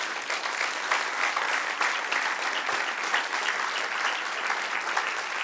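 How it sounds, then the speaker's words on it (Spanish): A church congregation applauds together in a sustained, dense wash of clapping that holds steady and full throughout, with no voice rising above it. "Dale un aplauso al Señor."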